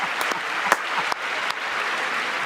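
Applause from an audience at a Trump speech, a steady wash of clapping with a few sharper individual claps standing out, fairly close and without talk over it.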